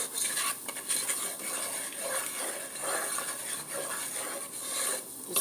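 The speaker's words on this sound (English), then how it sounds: "So we're just going to keep stirring it." Flour being stirred in a pan to cook out its raw taste for gravy for country smothered pork steak, a steady close scraping and stirring with faint sizzle and occasional utensil clinks, no voices.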